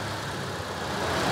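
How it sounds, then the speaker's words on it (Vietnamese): A 2010 Toyota Innova seven-seat car idles with the hood open, giving a smooth, quiet, steady engine hum heard up close with no other sounds. "Khoang động cơ máy khá là êm."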